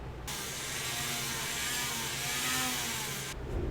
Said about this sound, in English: I'll take a rotary tool. We'll just grind it up to that edge.